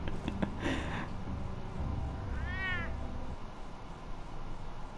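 A cat in the video game Batman: The Telltale Series gives a single clear, drawn-out meow midway through, heard alone over quiet ambient game sound.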